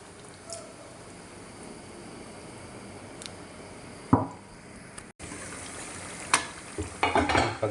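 Chicken pasta sauce simmers quietly in a pan with soft bubbling and sizzling, broken by a few sharp clinks and scrapes of stirring toward the end.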